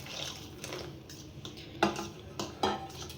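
Oreo biscuit cake batter being mixed with hot milk, with soft sloshing stirs and a few sharp clinks of a utensil against the bowl, close and fairly quiet, with no talking.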